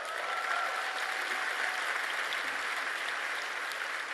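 An audience at a Turning Point event with Tucker Carlson at Indiana University, Bloomington claps and cheers steadily throughout, a dense, even wash of applause with no pauses.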